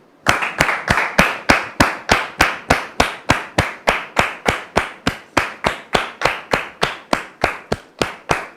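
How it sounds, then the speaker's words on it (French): Studio audience clapping in unison at a French-language talk show, a steady rhythmic beat of about three claps per second, loud and close, continuing evenly without voices. "avec votre permission, Dame Kofi Solange, sous vos applaudissements, s'il vous plaît."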